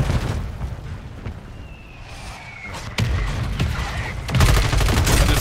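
Airstrike bombs and gunfire in Call of Duty Warzone on Ashika Island: sharp shots and rumbling explosions build, with a heavy boom at the midpoint and a louder blast barrage near the end.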